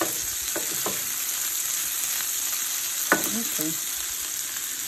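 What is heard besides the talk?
brats, peppers and onions cooking in broth in a pan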